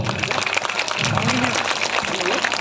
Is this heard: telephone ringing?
no